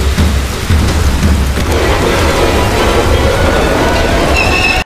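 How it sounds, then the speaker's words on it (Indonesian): Low thunder rumbles through steady heavy rain, a deep roll that builds and fades while raindrops patter loudly nearby. "Tiba-tiba suara gemuruh petir menggelegar dan membuat permainan mereka berhenti"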